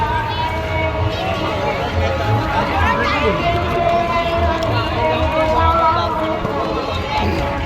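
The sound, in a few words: crowd at Ramleela fair on Dussehra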